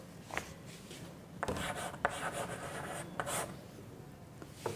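Answer being written on a classroom board, with short scratchy strokes in a few bursts separated by pauses, quiet and fairly close.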